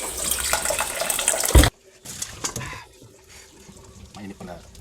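Tap water gushes hard into a hot wok-like cooking pan being washed outdoors, a loud splashing rush that stops abruptly, followed by quieter clatter and someone talking.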